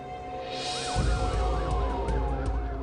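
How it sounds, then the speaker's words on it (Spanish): Police sirens wail in a Los Angeles neighbourhood at night, one rising and falling cycle after another with a steady tone underneath and a low engine rumble, fairly close and unbroken. "Se escuchan sirenas de la policía en el barrio de Brentwood."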